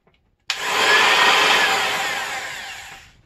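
Repaired electric sander switched on, starting abruptly and whirring with a steady, loud buzzing hum for a few seconds before tapering off as it winds down.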